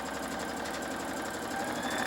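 Sewing machine stitching a satin stitch along the top of a fabric bag, a rapid steady mechanical chatter running evenly and close up for the whole moment.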